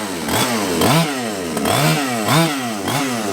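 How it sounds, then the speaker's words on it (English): A small gas engine on an RC car revs loudly and repeatedly, its pitch rising and falling in waves, close by with no voices. "This thing has got a really loud engine."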